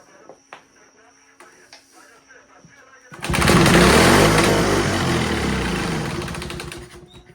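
A vintage 1940s Homelite HRA 42-volt, 115-volt generator engine: after a few faint clicks and knocks it suddenly fires into a loud, steady buzzing run, close by, carrying on for several seconds and easing slightly near the end.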